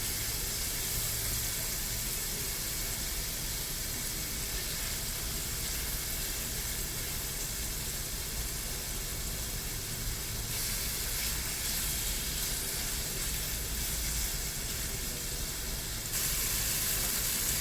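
Chicken tenders coated in rice and broccoli fry in a pan with a steady, close, continuous sizzle and hiss that holds at an even level throughout, with no talking.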